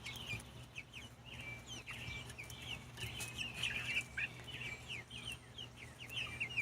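Young hens, pullets, cluck in a steady chatter of short, close, quiet calls that repeat over a low background hum.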